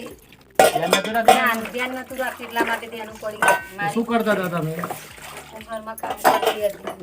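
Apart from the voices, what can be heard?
mother washing dishes and utensils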